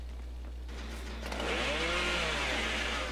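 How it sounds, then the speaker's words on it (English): Leatherface's chainsaw revs up in the Dead by Daylight video game, a rising mechanical snarl that swells louder over a constant low hum. "And then you chainsaw me."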